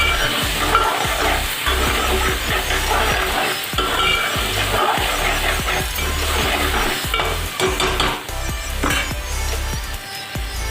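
Frying in a pan for a brinjal curry, cooked until golden, with loud continuous sizzling and busy stirring, where a utensil scrapes and clinks against the pan in quick repeated strokes close by.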